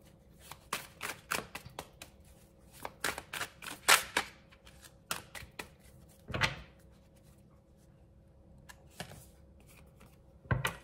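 Tarot cards handled, shuffled and drawn in a quiet room, with a long run of sharp, irregular snaps and riffles, some in quick clusters and others spaced apart.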